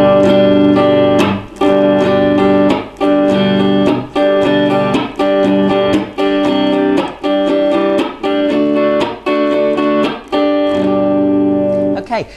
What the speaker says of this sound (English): this strumming pattern is a downstroke, an upstroke, a chop